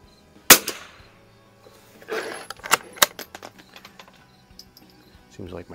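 A Winchester 52D rifle fires Browning Pro22 .22LR target ammunition. Sharp, fairly loud cracks sound three times, one alone and two close together, with quiet clicks and shuffling between them.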